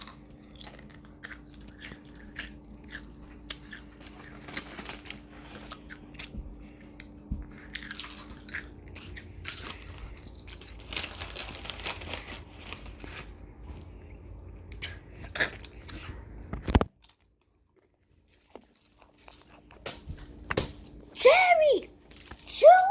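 Open-mouthed chewing of crunchy snacks, with wet biting and crunching close to the mic in an irregular rhythm, a sudden silent gap, then brief voices at the end.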